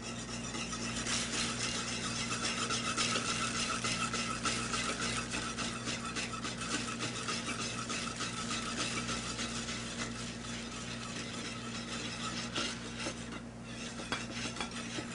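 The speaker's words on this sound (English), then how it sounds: "you want to add the pearls slowly while whisking constantly so that they don't stick together" Tapioca pearls being whisked into a pot of liquid for a blueberry mochi cake, a steady rasping, scraping stir that runs continuously at close range with no talk.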